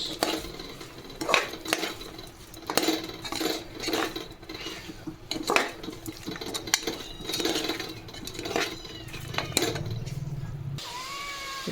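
Chicken roast with rock salt stirred in a pan: repeated scraping and clinking of a utensil against the pan in an irregular rhythm, with light sizzling beneath, close and moderately loud.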